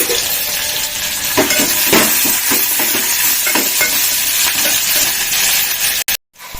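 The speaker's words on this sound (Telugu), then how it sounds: "ఇది ఏంటంటే ఇది క్యారెట్ ఫ్రై" Carrot fry with onion, green chilli and curry leaves sizzling in hot oil, a steady broadband hiss broken by repeated stirring scrapes, close and loud, cutting off abruptly near the end.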